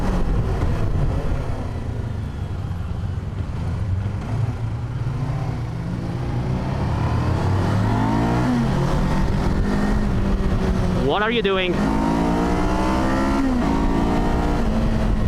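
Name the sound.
adventure motorcycle with Ninja 500 engine revving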